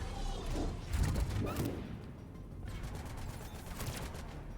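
Gunfire from the video game Mass Effect 3: a loud, dense burst of overlapping shots and thuds in the first two seconds, easing into a steadier background of scattered fire and impacts.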